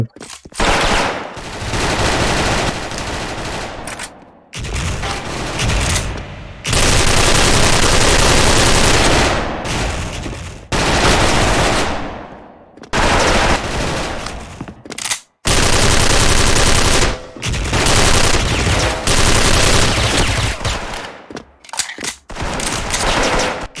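In the online shooter Special Force, an XM8 rifle fires repeated loud automatic bursts at close range, separated by short silent gaps, with heavy rattling fire dominating throughout.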